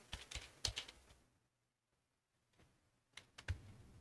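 Python code being typed on a computer keyboard: quiet bursts of rapid key clicks, a pause of near silence in the middle, then another short run of keystrokes.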